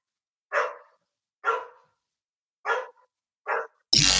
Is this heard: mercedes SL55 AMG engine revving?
no